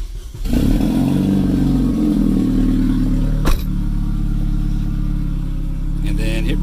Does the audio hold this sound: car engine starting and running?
yes